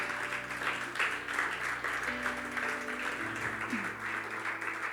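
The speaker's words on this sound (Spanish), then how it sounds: "dale un fuerte aplauso al Señor" A church congregation claps in a steady, dense wash of applause that continues throughout, with a sustained musical tone in the background.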